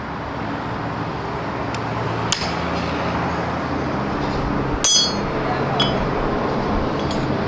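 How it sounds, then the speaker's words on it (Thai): A hammer knocks out a car alternator bearing, giving a few sharp metallic clinks spread over steady workshop and traffic background noise. "เอาค้อนตีออกได้เลยนะครับ"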